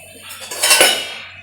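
A single close, bright clatter of plates and cutlery as dishes are handled to serve food, swelling and fading over about a second, with no voices.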